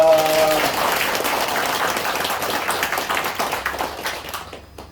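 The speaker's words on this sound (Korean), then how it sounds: "다시 한번 크게 박수하겠습니다." A church congregation breaks into strong applause right after a brief spoken line. The crowd's clapping stays dense and steady, then tapers off and fades out at the end.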